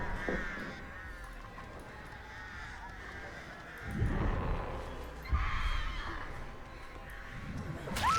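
Crows caw from The Artist's power in the video game Dead by Daylight, a few harsh caws rising over a dim, rustling game ambience, with people talking faintly.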